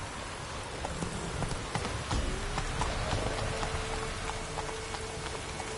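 Hooves of Roach, a horse in The Witcher 3, clatter in a steady galloping rhythm over a rain-like hiss, with a faint low drone running underneath.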